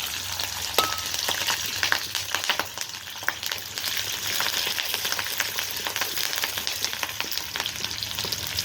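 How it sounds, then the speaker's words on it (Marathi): Chillies and garlic fry in hot oil in a pan on a wood-fired village stove, giving a steady, close crackling sizzle with scattered pops and occasional stirring clicks, no voices. "तेल तापतंय. आता मिरची आणि लसूण"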